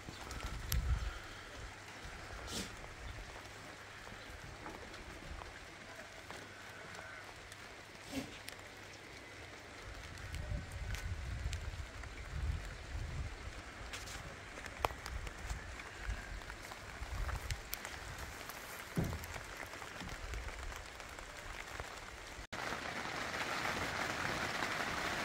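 Rain falling outside a polytunnel, a steady faint patter with scattered sharp drips and taps on the covering, growing a little heavier in the second half, with no talking.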